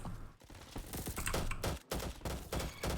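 Rapid bursts of gunfire from a burst-fire weapon in the Roblox shooter Bad Business, loud repeated volleys in quick clusters with short gaps, no talking.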